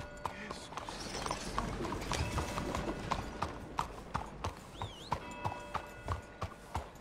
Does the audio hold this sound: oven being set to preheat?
no